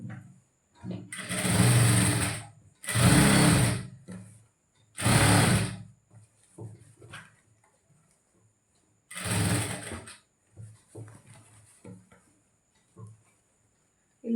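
A sewing machine stitches a blouse in four loud bursts of rapid whirring, with quiet pauses and faint handling noises between them.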